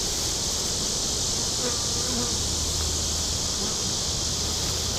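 Honeybees buzz around an open beehive, a dense, continuous hum of many insects close by that carries steadily throughout with no talking.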